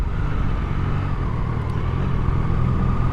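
A Triumph Daytona 660 motorcycle pulls hard in fourth gear, its engine giving a steady, loud rumbling drone close up that holds without a break, mixed with road and wind noise.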